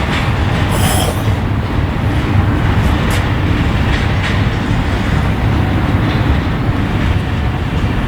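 A freight train rolls past Barstow's Amtrak station in California at night, a loud continuous rumble and rattle of railcars with a brief high wheel squeal early on, steady throughout with no talk.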